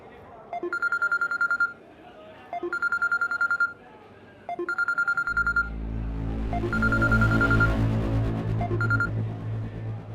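A telephone is dialed, with three bursts of rapid keypad tones, each about a second long, followed by a steadier electronic ringing tone over a low hum, set in a Pakistani TV drama scene.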